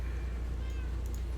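A pet cat gives a short, faint meow over a constant low hum, heard during a Minecraft gaming session.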